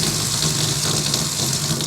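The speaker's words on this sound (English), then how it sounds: "We turn our water on." Water gushing steadily from an outdoor spigot with a dog-washing wand attached, a continuous close hiss of running flow with no talk.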